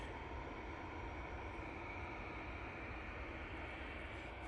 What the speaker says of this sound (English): This A320 that we got here is off to Gibraltar.